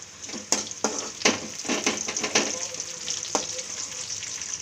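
Green chillies, garlic and ginger sauté in a hot pan with a loud, close sizzle, broken up by the rhythmic scrape and clatter of stirring.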